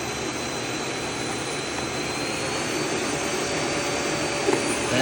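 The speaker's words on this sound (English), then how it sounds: "it's nowhere near as noisy as my old vacuum" A Eureka bagged vacuum cleaner running on its low setting gives a steady, broadband whooshing hum that stays close and even throughout, with no talking.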